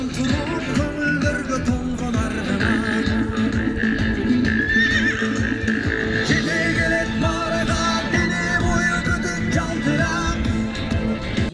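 Horses neigh and whinny repeatedly at a village horse-games event in Kara-Talaa, Kyrgyzstan, amid a loud, dense crowd din with hoofbeats and shouting throughout.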